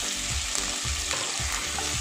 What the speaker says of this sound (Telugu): రెండింటిని కొంచెం ఫ్రై చేసుకోవాలి.